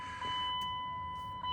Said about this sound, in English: that sound you just heard, that's the fast pump, and that's it priming